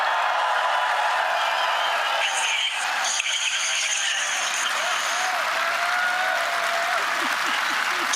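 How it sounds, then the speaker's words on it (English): A big crowd applauding and cheering without pause, a dense continuous roar of clapping heard from a distance, with a few brief whistles and shouts rising above it. "that sounds like a big crowd, and that sounds like my kind of people"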